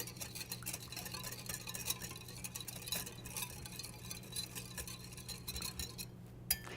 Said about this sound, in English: We're going to whisk all of these together